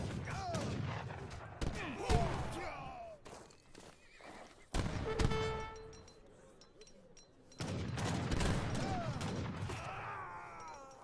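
Abyssinian gunner units fire in Age of Empires III, heard as sharp, scattered gunshot cracks mixed with horse neighs, hoofbeats and other battle effects, fairly faint overall.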